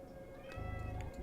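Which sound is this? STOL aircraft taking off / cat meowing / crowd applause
cat meowing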